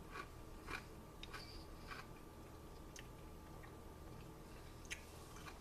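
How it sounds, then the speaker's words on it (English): Close, crisp crunching as crunchy sauerkraut is bitten and chewed, with irregular sharp crackles repeating throughout and no talking. "It has a lot of snap to it when you bite it."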